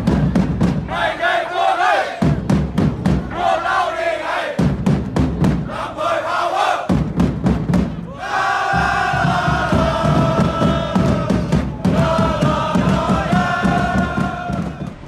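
Debsirin boys' school cheering squad, the Lamplay Power group, leads a massed crowd in loud rhythmic chanted cheers and shouts, dense and sustained with brief breaks between phrases.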